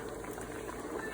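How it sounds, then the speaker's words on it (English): Rice boiling in a pot as part of preparing Persian Gheimeh stew, a steady, low bubbling and simmering rumble heard up close and fairly quiet, with no talking. "you have to be boiling your rice at the same time"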